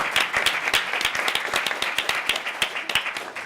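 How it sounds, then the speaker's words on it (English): Audience clapping in a lecture hall at an academic event, a smaller group with distinct individual claps in a brisk, irregular patter, fairly close and without talk. "Let's clap for you two."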